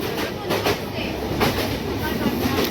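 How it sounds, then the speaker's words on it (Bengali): The Ruposhi Bangla Express runs on the rails just after leaving Jessore Junction, a loud, close rumble with rhythmic wheel clacks heard from inside a carriage, and a voice speaks briefly over it. "আমাদের ট্রেন কিন্তু যশোর জংশন ছেড়ে দিয়েছে"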